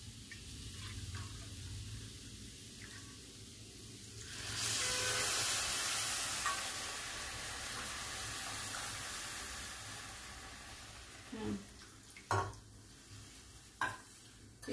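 Carrots simmering in strained cold milk for winter gajar halwa give a steady, soft hiss and bubbling that swells louder midway, with a few sharp clinks of a spoon against the pot near the end.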